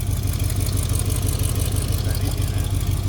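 A 1971 Chevy 350 V8 with a turbo 350 transmission and a new cooling system idles steadily nearby, giving a loud, continuous low rumble. Faint voices can be heard beneath the running engine.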